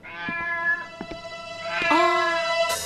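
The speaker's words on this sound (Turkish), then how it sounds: "Aa, o ne be? Bu kedi de nereden çıktı ya?" A cat meows several times indoors, short close calls followed by a longer, rising and wavering meow near the end, with no talk over it.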